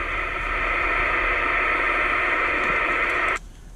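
Harsh, distorted CB radio audio with a Class C amplifier sound: a steady, dense buzzing hiss that holds loud for about three seconds and then cuts off abruptly.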